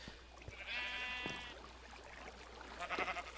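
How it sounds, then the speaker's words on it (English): Minecraft sheep on a wool farm give two synthesized bleats, one long wavering call early and a shorter one near the end, separated by quiet ambience. "let's shear us some sheep."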